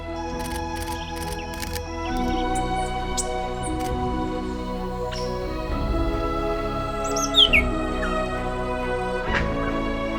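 Wild birds call and chirp in preserved Atlantic Forest at Antonina, Brazil, with several distinct whistled notes and a brief higher sweeping call over a steady layered hum of forest insects.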